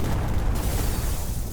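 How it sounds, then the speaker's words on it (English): A big explosion in a Doom-engine indie video game, set off with a plunger, lands as a broad, heavy rumbling boom that fills the whole stretch and fades slowly. "And we get big explosion."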